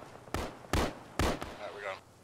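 Gunfire in a military combat video game: three sharp, loud bursts spaced roughly half a second apart, with a quieter rumble trailing after them.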